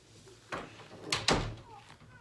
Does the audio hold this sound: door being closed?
yes